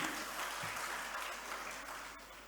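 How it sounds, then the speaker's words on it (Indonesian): An audience at a Halal bi Halal gathering of RSI Muhammadiyah Kendal hospital gives the hospital a round of applause, a dense, steady roar of many clapping hands heard from some distance, slowly easing toward the end. "Tepuk tangan untuk RSI"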